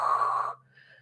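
A single steady exhale during a Pilates ab exercise, a close breathy rush of air lasting about half a second before fading into quiet.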